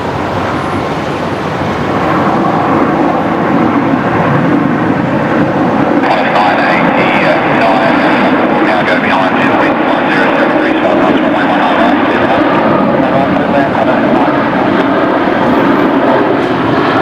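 A passenger aircraft, likely a rescue flight, takes off at Brisbane Airport at sunset, a steady loud engine roar filling the whole stretch and swelling slightly midway, with faint traffic-like noise beneath and some voices mixed in.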